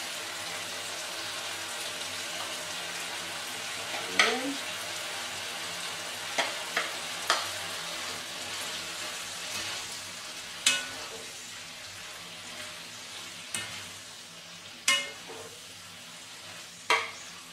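Chopped red bell pepper frying with turkey meat in a pan for a turkey stew, a steady low sizzle broken by occasional sharp clicks and scrapes of stirring.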